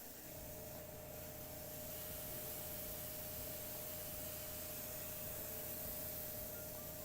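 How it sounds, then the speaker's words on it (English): An airbrush nozzle blocked by a fingertip so the air is forced back through the brush, giving a steady, faint hissing rush with a thin whistling tone held throughout. "putting my finger on at the nozzle and then letting the air come out, which causes, when you do that, you're blocking it so it backtracks"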